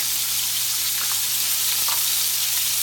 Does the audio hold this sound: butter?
yes